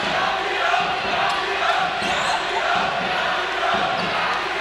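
Crowd noise fills a gym during a men's college basketball game between Bob Jones University and Pensacola Christian College, a steady broadband roar with a faint commentator voice underneath and scattered sharp accents.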